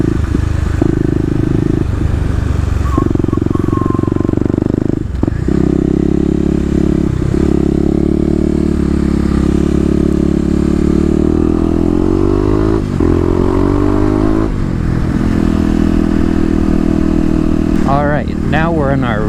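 Motorcycle engine droning steadily while the rider circles a roundabout in a residential area, loud and close with small shifts in revs, a voice talking over it throughout.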